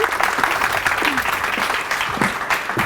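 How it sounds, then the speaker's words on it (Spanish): A school audience at a Spanish student show applauds a presenter with a full, steady round of clapping that lasts the whole stretch, loud and close. "Un fuerte aplauso a Laurín."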